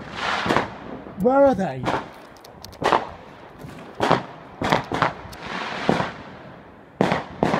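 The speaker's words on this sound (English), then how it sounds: "there's fireworks going off over this way" Fireworks bang repeatedly outdoors near a Land Rover, a string of sharp loud cracks and pops spread irregularly, with a whistling rising shriek early on and excited talk between bursts.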